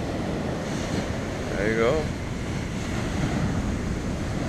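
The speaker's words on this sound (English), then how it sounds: "check out the surf that's happening behind. Huge waves, huge waves." Large surf breaking and rolling onto a beach at Mai Khao Beach, Phuket, a steady broadband roar mixed with wind, with a brief voice speaking over it.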